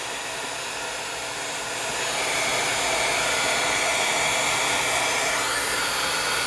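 A heat tool blows hot air onto painted paper at a desk, a loud steady rushing whoosh that swells slightly after a couple of seconds and holds constant, with no talking.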